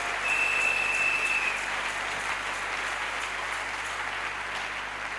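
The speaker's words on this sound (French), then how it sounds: "Acclamons Jésus le Dieu tout-puissant." A church congregation applauding to praise Jesus, dense sustained clapping from many hands filling the room at a steady level throughout.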